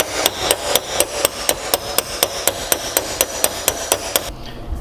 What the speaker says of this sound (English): I tried hammering it a little bit using this as kind of like a flat surface